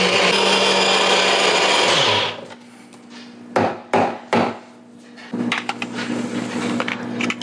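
A kitchen blender whirs loudly and steadily for about two seconds, then cuts off, followed by a few sharp clunks and handling knocks from the jar and counter.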